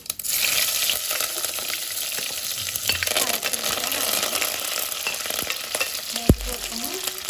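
Mustard seeds and garlic fry in hot oil with a steady, close crackling sizzle, broken by scraping stirs and a sharp clatter near the end.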